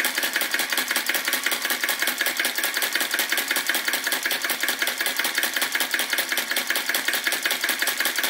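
A Retrol VE-01 vacuum flame licker crossbeam model engine runs steadily, giving a fast, even stream of light mechanical clicks and puffs close by, alone with no voices.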